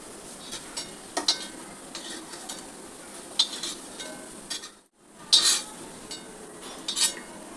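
Stuffed bitter gourds frying in a pan, with soft sizzling under intermittent scrapes and clinks of a spatula turning them, close by and uneven.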